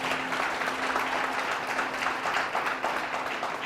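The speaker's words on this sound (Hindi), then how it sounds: "क्यों ना प्रभु के लिए ताली बजाएं" A congregation at a church service applauds, a dense steady wash of many hands clapping throughout, fairly loud and even.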